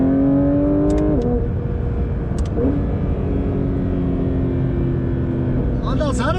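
A Porsche 911 GT3 RS of the 992 generation accelerates hard. Its loud engine note climbs sharply and drops at quick gear changes, then climbs again through the run.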